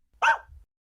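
A small dog gives a single sharp bark followed by a short, softer growly tail, close and alone, as a sound effect in a children's radio play.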